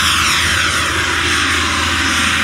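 Freewing Avanti RC jet with a 4.2 kW WeMoTec electric ducted fan on 8S power, flying at high speed: a loud, steady whine and rush holding level without a break.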